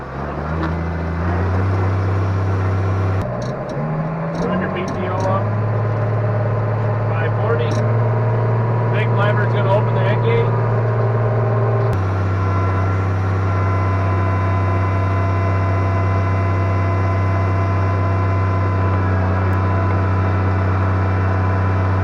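ARTEX manure spreader with its PTO-driven beaters running, a steady loud low mechanical drone and hum that carries on without a break, with faint clanks early on.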